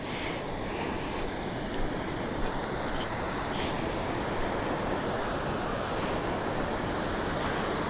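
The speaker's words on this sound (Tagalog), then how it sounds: "Tapos ito yung falls." A waterfall at a tourist spot in Porac, Pampanga: a steady, loud roar of rushing water that stays constant and broadband throughout, with no other sounds standing out.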